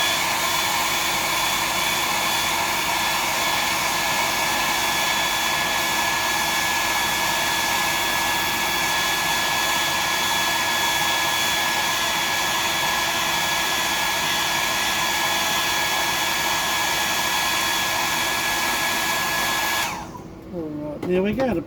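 Hair dryer blowing on a freshly painted bream glide fishing lure, a loud continuous whooshing whine held steady for about twenty seconds before switching off.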